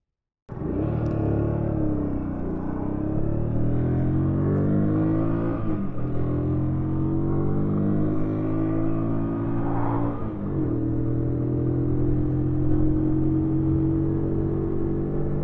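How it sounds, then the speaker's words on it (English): Keeway Superlight 125cc motorcycle, 2022 edition, on a test ride: a steady engine drone rising and falling through gear changes over fifteen seconds, close and loud with no talk. "today we're going to be doing a test ride on the Keeway Superlight"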